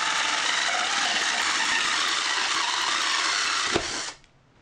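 Small drill boring many tiny holes in a PVC end cap, a steady high whirring buzz held for about four seconds, with a brief click before the motor winds down.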